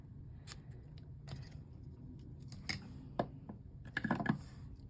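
Scissors snip through ribbon for a handmade sunshine-themed card, giving a few quiet, crisp cuts spread out with soft handling noise between them and a small cluster of snips near the end.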